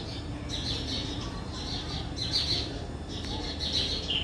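Repeated high chirps from several birds, scattered and somewhat distant, over steady outdoor background noise.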